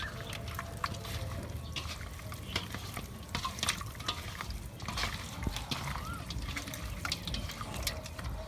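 Fish, rinsed in water, being kneaded by hand with wheat flour in a village kitchen: soft wet squelching and mushy rubbing sounds, close and quiet, with occasional sharper splats.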